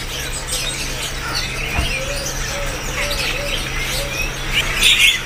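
Birds at a kiosk in Pasar Burung Pramuka, where puter doves, white and blorok, are offered: a run of clear chirps and calls over a steady background hum, ending in a brighter, higher flurry of calls.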